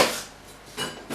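A knife cuts apples on a board, giving a few quick, close knocks and chops with short gaps, no voices.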